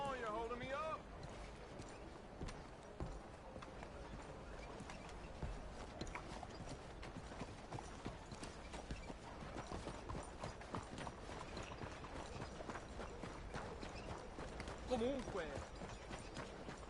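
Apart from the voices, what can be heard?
horse hooves galloping in video game Red Dead Redemption 2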